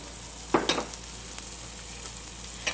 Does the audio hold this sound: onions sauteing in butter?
yes